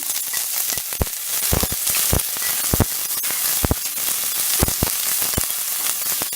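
Chopped onion, curry leaves and green chili sizzling in hot oil in a pan, a loud continuous frying hiss with frequent sharp crackles and pops close by.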